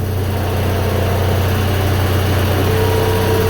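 Onan generator engine idling after its load is removed, a steady low droning hum with constant loudness and no talk, running close by.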